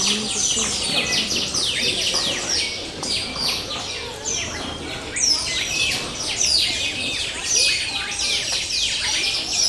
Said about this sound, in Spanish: Díganme que no les gusta el sonido de los pájaros.